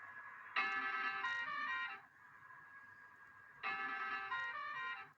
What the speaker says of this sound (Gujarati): આપણું પહેલું હોરન હે,